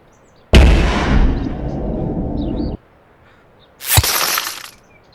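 Two Brass Eagle paintball gun shots, the first a sharp loud crack with a sustained rushing tail lasting about two seconds, the second a shorter burst after a pause.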